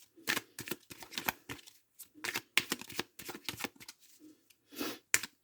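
Tarot cards are shuffled for a nine-card reading, giving repeated bursts of crisp riffling and flicking at close range, with short pauses between them and no talking.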